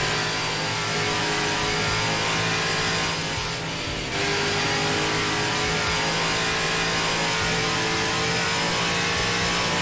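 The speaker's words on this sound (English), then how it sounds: "I haven't heard this in-car sound before." Steady NASCAR race car engine at Daytona from an in-car camera, a loud continuous mid-pitched drone with a brief surge in roar partway through, no talk.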